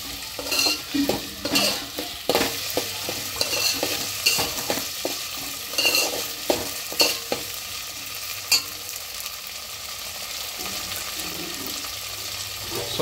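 Diced potatoes frying in a pan with onion and green chilli for aloo poha, stirred with a utensil that gives repeated scraping clinks over a steady sizzle, fairly close.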